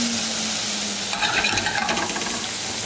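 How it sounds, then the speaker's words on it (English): Ingredients sauteing in a hot pan for a lobster roll and bisque dish, a steady loud sizzle with a burst of tossing and stirring scrapes midway, close up and without speech. "Just gonna saute it. Get it nice and warm."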